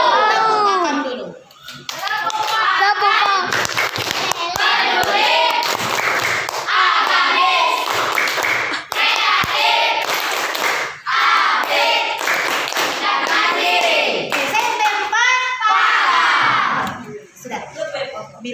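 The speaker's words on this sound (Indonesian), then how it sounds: "Tepuk tangan dulu." A class of middle-school children at SMP 4 bursts into sustained, loud clapping mixed with shouts and cheering, continuing for most of the stretch with only brief dips.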